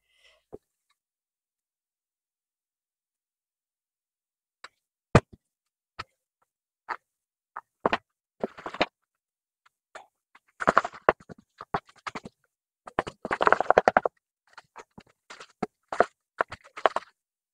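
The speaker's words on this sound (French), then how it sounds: "Et maintenant, on va mélanger tout ça." Chocolate fondant batter stirred in a bowl, with sparse scraping strokes early on that grow into denser bursts of close spatula scraping and tapping, no talk.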